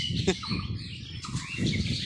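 Birds feeding on fruit in a banyan tree, with repeated faint chirps and calls over steady outdoor background noise and occasional rustling.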